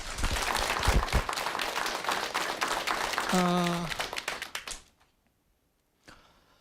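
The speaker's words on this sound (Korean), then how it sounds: "정균승 교수와 함께 할 텐데 큰 박수로 강의 청해 듣도록 하겠습니다" A studio audience at a Korean TV lecture program applauds loudly to welcome the lecturer. A short tonal chime rings over the clapping near the end, then it all fades to near silence with a faint noise after.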